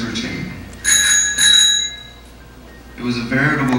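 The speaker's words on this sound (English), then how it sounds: "And the cash registers were ticking." A cash register bell rings brightly and metallically, two quick dings close together, followed by a pause and some soft voices or clatter.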